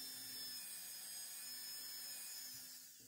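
A small drill boring into carving wax gives a faint, steady high-pitched whine that holds evenly for a few seconds and then eases slightly at the end, with no talking.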